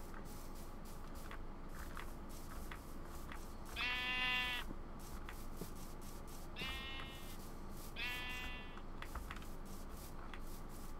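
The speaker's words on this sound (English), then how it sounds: "Sheep." Minecraft sheep bleat three times, wavering cries spaced a few seconds apart over a quiet, steady background hum.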